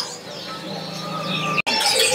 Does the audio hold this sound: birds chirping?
yes